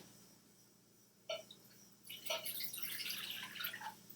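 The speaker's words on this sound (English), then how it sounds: "I'm going to pour it in my pan." Water pours from a measuring cup into a cooking pan for boxed Kraft Mac & Cheese, a faint splash at first, then a steady trickling pour lasting about two seconds, quiet and close.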